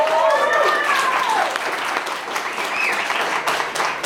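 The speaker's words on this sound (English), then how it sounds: "So please give them a round of applause." Audience applause fills a co-op bar, steady broadband clapping with a few whoops and cheers at the start, then continuing a little softer throughout.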